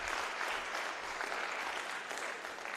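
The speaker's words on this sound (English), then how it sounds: "So we'll clap it up for Jaden." Audience applause at a varsity high school wrestling meet, steady and dense clapping from a gym crowd that holds a constant level throughout without a break.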